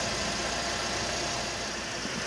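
A Mercedes 230 Kompressor engine idles with a bypass valve spacer fitted, giving a steady, loud, hissy whoosh that stays constant and close with no talk.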